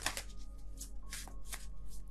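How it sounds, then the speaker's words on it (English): Tarot cards being shuffled by hand in a series of quick riffling bursts, close and fairly loud, with a steady low hum underneath and no talking. "I don't know what's going on with my shuffling right now"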